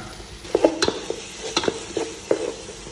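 Ginger frying in hot oil for a fish stew while being stirred, a soft continuous sizzle punctuated by several sharp scraping clinks of the utensil against the pan, close up.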